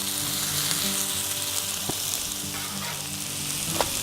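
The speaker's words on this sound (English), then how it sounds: "I love cooking peppers and onions on this thing." Peppers and onions sizzle on a Blackstone griddle in a steady, dense hiss. It stays close and continuous, with a couple of faint scrapes and no talk.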